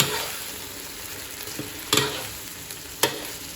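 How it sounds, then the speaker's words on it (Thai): Pork bones stir-fried in a pan, a continuous low sizzle broken by a few sharp scrapes and taps of a spatula against the pan. "ใช้เวลาประมาณสามสิบนาทีนะผัดกระดูกหมูอ่ะ เดี๋ยวมาเกี่ยวไปจ้าเกี่ยวไปอดๆประมาณสามสิบนาที"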